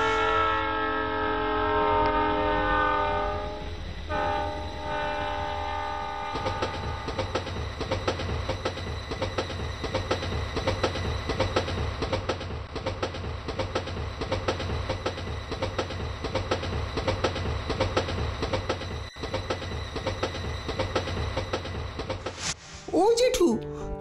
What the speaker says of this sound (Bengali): প্রচন্ড গতিতে ট্রেন চলছে